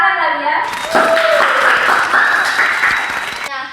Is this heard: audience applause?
yes